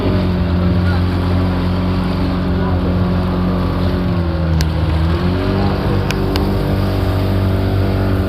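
A motorboat engine runs loud and steady aboard a boat, its droning hum shifting slightly in pitch partway through, with wind noise and voices talking over it.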